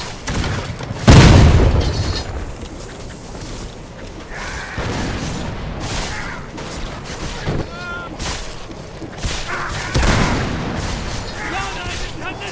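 Cannon blasts firing canister shot in the game Guts and Blackpowder, a heavy boom near the start and another around ten seconds, amid battle noise with shouting voices throughout.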